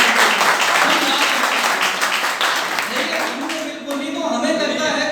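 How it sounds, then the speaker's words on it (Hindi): Audience applause at a direct selling seminar, a dense wash of clapping that thins slightly toward the end, with voices murmuring beneath it. "जोरदार ताली"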